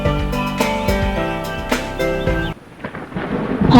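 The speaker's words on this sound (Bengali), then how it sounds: "হঠাৎ একদিন কালবৈশাখী ঝড় এলো" Thunder from a Kalbaisakhi nor'wester storm in a cartoon comes first as a backing of musical tones, then gives way to a low, building rumble with a rain-like wash at the end.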